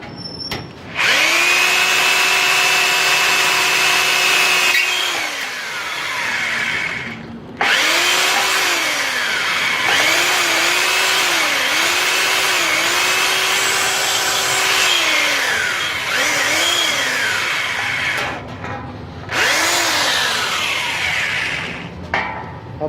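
Electric drill with a small bit boring a mounting hole for a transformer in a homemade UPS build: loud, close whining motor runs in long stretches, pitch sagging and recovering under load, with brief stops between runs and no voices.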